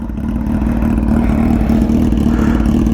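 An Aprilia RSV4 1100 Factory motorcycle with an SC Project exhaust idles and revs up close, a loud, deep, throbbing engine note with a steady pulsing rhythm and a rising rev near the end.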